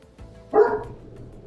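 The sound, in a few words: dog barking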